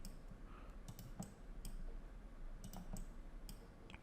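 Computer mouse clicks while working in Revit, a series of quiet sharp single and double clicks spaced irregularly over a faint room hum.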